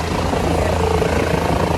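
A helicopter at the Maha Kumbh fairground roars steadily and loud, with dense rotor and engine noise filling the whole moment close by, no other sound standing out.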